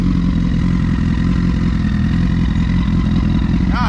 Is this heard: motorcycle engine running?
yes